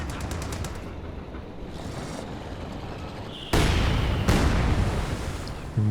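Company of Heroes 2 battlefield where steady rumbling combat noise gives way to a loud, sustained burst of machine gun fire from about midway, continuing close and heavy to the end.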